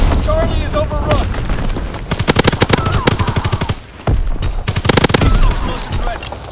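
Call of Duty: WWII match on the Shipment 1944 map: dense bursts of automatic gunfire crackle close and loud, broken by a sharp blast near the middle. Radio-style voice callouts run underneath.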